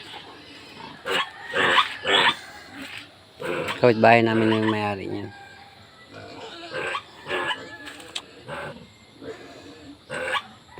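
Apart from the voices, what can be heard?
large pigs grunting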